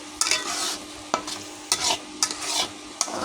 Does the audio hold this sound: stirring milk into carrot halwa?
yes